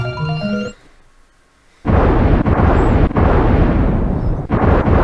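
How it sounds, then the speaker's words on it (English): A burst of retro-style game music gives way to a brief hush, then loud, rumbling explosions roar continuously with a few sharp cracks. "Ah, yes, the old style explosions."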